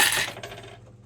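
A 50p coin drops into a slot machine with a sharp metallic clink, then rattles briefly inside before fading, heard close and alone.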